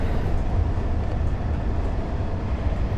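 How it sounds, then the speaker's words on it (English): A Japanese train in a train simulator game rolls into a station, a continuous loud low rumble of wheels and motor heard up close with no talk. "There's the other train rolling into the station."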